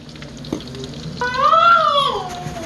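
Bacon frying in a pan for a homestyle country breakfast gives a close, steady sizzle. A loud cat meow rises over it partway through.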